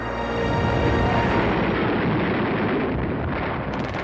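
Gunshots ring out on the square in front of Notre-Dame cathedral in Paris amid a large crowd, a dense, loud continuous roar of bursts and booms filling the whole stretch with no clear separate shots.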